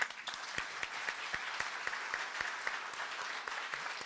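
An audience gives a Holocaust survivor and author steady applause after he mentions 67 years of marriage. The clapping is fairly faint and distant and carries on evenly throughout.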